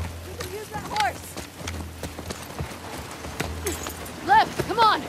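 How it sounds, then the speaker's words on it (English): Horse hooves clip-clopping in The Last of Us Part II, a quick uneven run of close hoofbeats mixed with game voices speaking over them. "Abby, you can use that horse."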